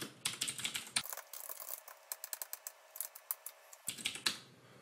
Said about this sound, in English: now let's type it in